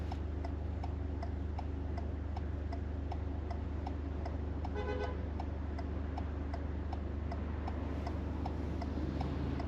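Car turn indicator ticking at a steady, even rhythm inside a moving car during a driving lesson, the clicks sharp and close over a constant low engine and road rumble.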